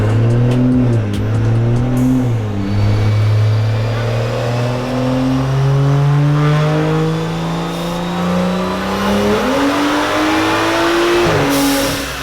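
A turbocharged BMW engine revs under load on a dyno in fifth gear, a loud close continuous roar climbing steadily in pitch, dipping briefly, then rising again before cutting off.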